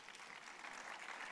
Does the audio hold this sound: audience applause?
yes